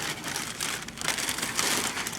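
Plastic bag crinkling and rustling as it is pulled off a new Bernette deco b70 embroidery machine, a steady close crackle without talk.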